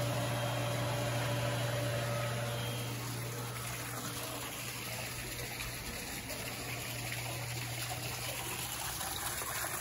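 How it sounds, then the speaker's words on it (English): Steady broadband rush of flowing, splashing water from a backyard waterfall feature beside a pool runs the whole time, with a low constant hum underneath and no voices. "The waterfall feature is fabulous because it blocks out the road noise and everything."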